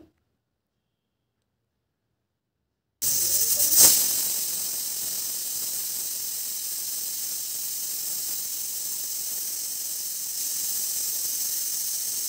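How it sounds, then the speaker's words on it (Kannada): A pressure cooker, used to cook eggs and potatoes for a masala, gives one long, steady, sharp hissing whistle of escaping steam that begins abruptly after silence and holds loud and close without stopping. "ಕುಕ್ಕರ್ ಲಿಡ್ಡನ್ನು ಕ್ಲೋಸ್ ಮಾಡಿ ನಾನಿಲ್ಲಿ ಒಂದು ಲಾಂಗ್ ವಿಜಲ್ನ ತರಿಸ್ತಾ ಇದ್ದೀನಿ"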